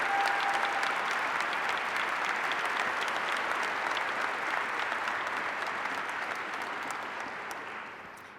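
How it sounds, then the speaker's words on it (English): Sustained applause from a large audience at a city Dr. MLK Jr. celebration in Tacoma, a dense steady wash of clapping that holds evenly and begins to fade near the end. "Please give them all a round of applause."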